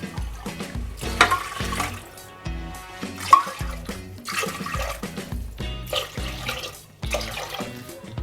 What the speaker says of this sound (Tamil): பாருங்க, 5 கிளாஸ் தண்ணி சேர்த்தாச்சு.